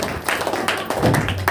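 A church congregation claps in quick, irregular bursts during a worship meeting, close and fairly loud with many hands overlapping.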